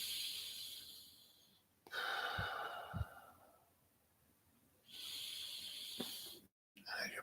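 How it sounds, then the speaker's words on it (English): Slow, deep breathing, each long hissing inhale and exhale swelling and fading over several seconds with quiet gaps between, close to the microphone and audible on its own. "start breathing deep."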